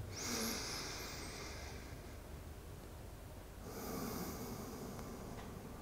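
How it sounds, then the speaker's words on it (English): Slow, deep breaths during a breathwork warm-up: two long, airy inhale–exhale cycles, close and soft, with no talking. "Take two breaths here."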